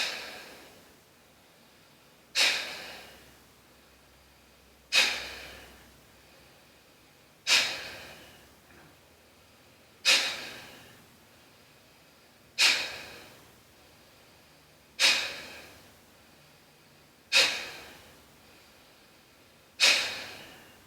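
Sharp, forceful breaths through the nostrils in Bhastrika pranayama practice, nine evenly spaced bursts about every two and a half seconds, each fading quickly into quiet, close and alone.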